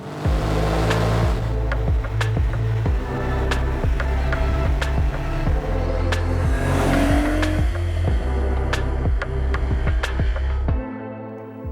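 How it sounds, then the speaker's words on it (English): Porsche 911 Carrera of the 992 generation, a rear-wheel-drive coupe, driving with a steady loud engine drone and rising revs, sharp clicks and thumps over the continuous road noise throughout. "This is a 992 generation 911 Carrera."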